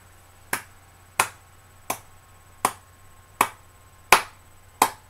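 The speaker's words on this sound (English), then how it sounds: "Slow, appreciative clap" Single hands clap slowly and deliberately, seven crisp, isolated claps spaced about two-thirds of a second apart, close and clear over a faint steady hum.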